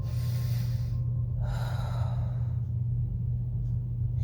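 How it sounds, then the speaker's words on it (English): Slow guided meditation breathing, one deep inhale drawn through the nose followed by a long exhale released through the mouth, close and steady over a constant low hum. "just breathe in through the nose and out through the mouth"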